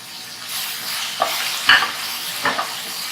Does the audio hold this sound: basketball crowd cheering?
no